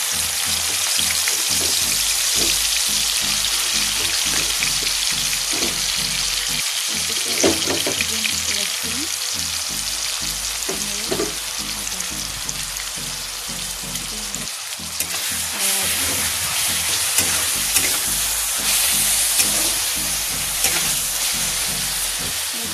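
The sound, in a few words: onion paste frying in hot oil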